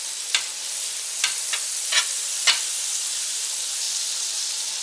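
Butter sizzles steadily in a hot pan before a quesadilla is assembled, a constant bright hiss with a few soft taps and scrapes, close and alone.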